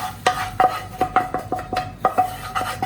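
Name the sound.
tomatoes added and stirred into dal in pot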